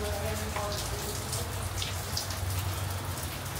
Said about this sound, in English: That's that Florida rain, baby.